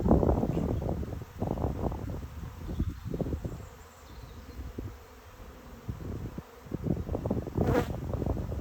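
Honeybees buzz around an open hive during an outdoor inspection, a dense, steady drone that swells and dips, with occasional bumps and rustles close by.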